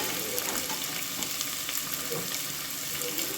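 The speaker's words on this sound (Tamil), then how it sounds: "வெங்காயம் சீக்கிரமாக வதங்கிருக்காங்க" Onions sauté in a pan for chicken gravy with a steady, even sizzle and faint crackles. The sound is close and continuous, with no talk.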